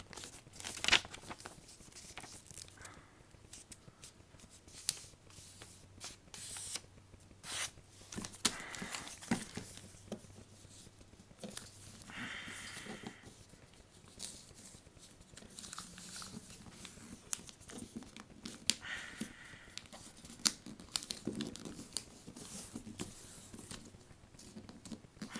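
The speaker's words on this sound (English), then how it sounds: "you're going to want to have it flat, and then you fold it backwards." Paper is folded and creased into a paper airplane, with continuous close crinkling, rustling and tearing-like scrapes lasting throughout, no speech.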